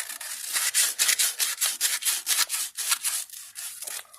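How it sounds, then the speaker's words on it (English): A carved wooden fishing lure being hand-sanded, with brisk, raspy back-and-forth scratching strokes in a fast, even rhythm, close up and alone. "we're going to sand it real quick one more time"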